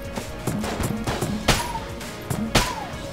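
A T-shirt cannon fires in the twin-stick shooter Enter the Gungeon, giving several punchy shots over busy in-game effects. Two stand out as sharp, loud blasts.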